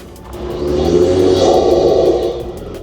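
A Ford Ranger Super Duty engine revs up hard with a loud intake roar through a Safari snorkel, swelling and holding for a couple of seconds before easing off.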